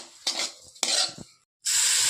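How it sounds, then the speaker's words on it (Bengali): Raisins and sugar frying in ghee for sooji halwa, stirred in a pan: two bursts of bright sizzling with spoon scrapes, a short silent gap, then a loud, steady hiss of frying, close and without talk. "একসঙ্গে কিশমিশ আর চিনিটা দিয়ে একটু ভেজে নেব।"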